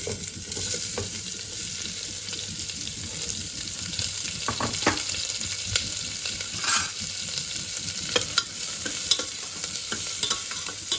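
Chopped onion and green chilies frying over cumin seeds in a pan, a steady crackling sizzle running throughout with repeated scraping and stirring strokes and occasional louder clatters of the spatula.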